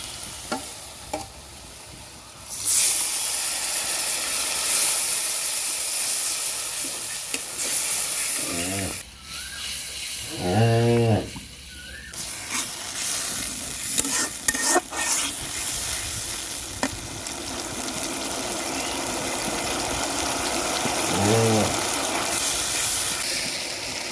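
Ground spice paste fries and is stirred in a hot wok for a Bengali curry. A steady close sizzle runs throughout, with scraping stir strokes and a few bubbling, sputtering bursts around the middle.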